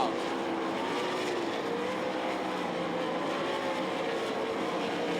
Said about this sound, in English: Right now, Wayne Johnson has the wick turned up and the kite string out.